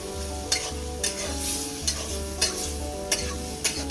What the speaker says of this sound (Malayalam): എന്നിട്ടൊരു 5 to 10 മിനിറ്റ് നമ്മൾ ഇങ്ങനെ ഒന്ന് വഴറ്റി കൊടുത്തു